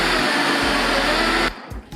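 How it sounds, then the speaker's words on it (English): A 2-litre blender whirs loudly and steadily while blending a kale and spinach smoothie, then cuts out abruptly partway through, leaving faint clatter and low room noise. "Because of my blender, it's a 2-litre blender."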